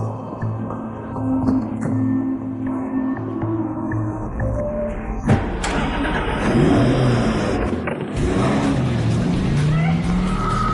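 A car engine runs and revs steadily as the vehicle drives, with a sharp transient midway and rising road and engine noise, loud and close throughout.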